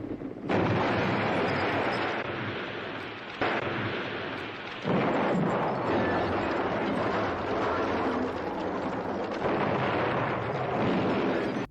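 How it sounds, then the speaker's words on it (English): A house blows up in the horror film Amityville 3D: a long, loud, continuous roar of blast and rumbling debris surges several times, heavy and booming throughout with no voices. "Yes, the house freaking explodes."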